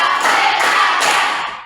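Close, loud group clapping fills an Islamic religious education classroom during an ice-breaking clap game, with several sharper accented beats rising out of a dense, sustained patter before it trails away.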